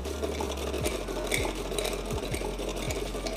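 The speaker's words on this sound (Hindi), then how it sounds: "हमारी मशीन ने सिलाई कर दी है" A sewing machine under repair stitches fabric in a steady, continuous mechanical whir with rhythmic needle thumps, close and fairly loud throughout.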